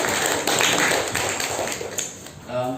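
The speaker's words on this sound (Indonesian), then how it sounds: "Tepuk tangan boleh nggak?" An audience claps at an Indonesian talk session, giving dense, steady applause that stays fairly loud throughout with voices mixed in.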